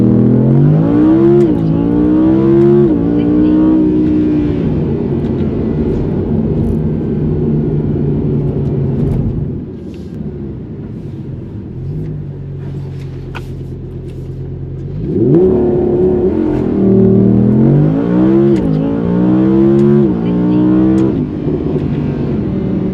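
A factory Audi R8 V10 launching to 60 mph in manual-shift performance mode, loud engine revving up through gears in rising sweeps, then a lower steady idle, then another hard acceleration run.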